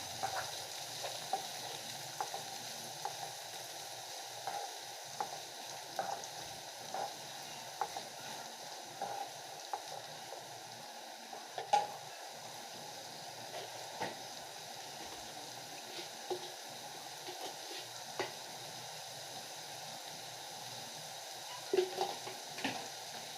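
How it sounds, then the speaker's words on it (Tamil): Cut green beans stir-fry in a hot pan for a Tamil beans poriyal, a steady soft sizzle running throughout with occasional faint scrapes and stirring clicks, no talking. "இப்போ கட் பண்ணி வச்ச பீன்ஸ் ஆட் பண்ணிக்கோங்க. அதோடு சேர்த்து நல்லா ஒரு நிமிஷத்துக்கு கலரி விடுங்க."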